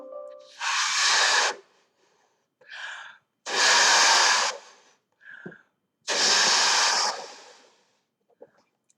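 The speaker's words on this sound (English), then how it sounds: "Or blowing up a balloon." A person blows hard into a balloon in three long, loud breathy puffs, with short quieter inhales between them.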